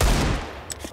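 Counter-Strike gunshots during a professional IEM Katowice 2025 match: one loud burst at the start fading quickly into the background, with a faint later shot.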